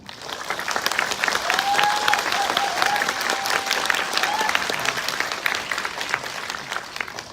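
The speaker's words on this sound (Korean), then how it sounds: "환호를 끝까지 여운을 남겼습니다" Audience applause after a film screening of Mamma Mia 2, a steady wash of many hands clapping with faint voices and a light whistle or cheer riding over it, sustained for several seconds.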